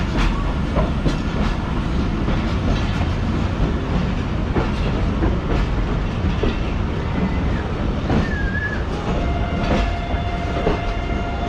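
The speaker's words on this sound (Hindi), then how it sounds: "साथ ही मिल्लत एक्सप्रेस को हम यहाँ ओवरटेक कर रहे हैं।" Aboard the Pak Business Express, a loud continuous rail roar with clattering wheels on the track carries on as it passes another train standing on the next line, with a brief squeal partway through.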